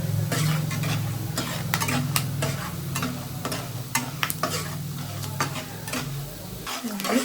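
Urad dal frying in oil in a pan for lemon rice while a utensil stirs it, with a steady sizzle under repeated scraping strokes against the pan. The sound is close and continuous, with no talk.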